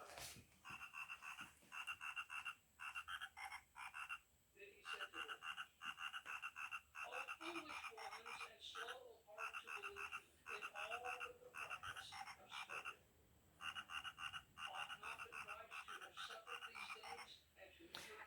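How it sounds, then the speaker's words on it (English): A croaking toy frog decoration sitting on a shelf repeats bursts of rhythmic electronic ribbits, with short pauses between rounds, clear and fairly close in a quiet room. "Check out Nanny's frog. There's a frog on a shelf."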